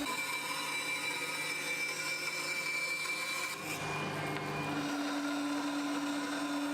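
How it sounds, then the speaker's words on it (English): A bandsaw cuts waste wood away from a rough axe handle blank, a continuous whining buzz with a steady tone that dips briefly midway and then picks up again as the blade runs on. "I cut away the waste at the bandsaw."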